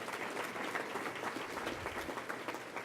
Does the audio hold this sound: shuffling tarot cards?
no